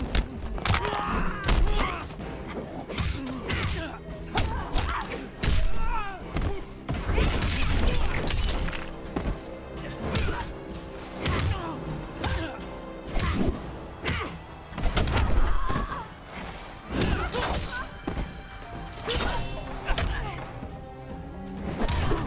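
Fighting-game combat in a Mileena brutality finisher, with dense, loud, continuous thuds, smashes and shattering hits layered with grunts and groans, close and busy throughout.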